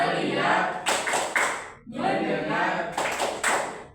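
A classroom of children claps together during a clap chant, several sharp group claps landing between bursts of chanted voices.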